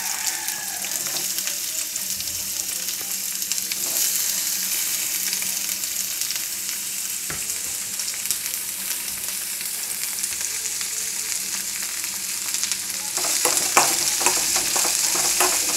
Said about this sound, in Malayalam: ചൂടായ എണ്ണ ചൂടായിട്ടുണ്ട്. ഇനി അതിലേക്ക് നമ്മൾ ഒരു സവാള വെട്ടി വെച്ചത്